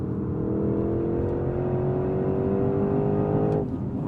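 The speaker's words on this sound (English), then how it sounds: "it will let me hold the revs all the way out to red line. Demonstrated here, right up to red line." A 2025 Porsche Cayenne GTS Coupe engine revs hard and climbs steadily toward red line in a held gear, a loud continuous rising drone that cuts off abruptly near the end.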